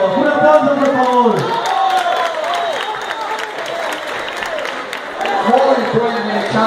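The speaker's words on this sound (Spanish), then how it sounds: "Un aplauso por favor." An audience at a women's boxing event applauds and cheers, a mid-distance crowd roar with scattered claps and whoops, under an announcer's voice that talks throughout.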